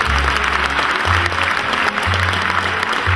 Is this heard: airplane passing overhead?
no